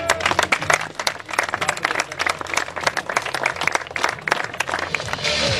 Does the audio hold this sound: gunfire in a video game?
no